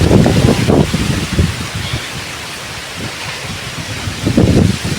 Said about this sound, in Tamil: காற்று ஃபுல்லாக அடிக்குதுமா.